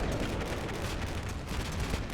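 Dense rumbling gunfire and distant blasts roll continuously from a machine gun team in Combat Mission Black Sea, a steady loud battle din with no pauses.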